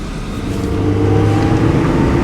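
A 1991 Honda Civic with an exhaust in good shape drives along, its engine a steady, fairly loud low hum and rumble throughout with no talking.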